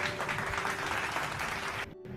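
Crowd applause within a Hindi audio love story, a steady wash of clapping at moderate level that cuts off abruptly near the end.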